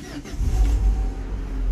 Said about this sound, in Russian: Запускаем двигатель, не включая никакую нагрузку.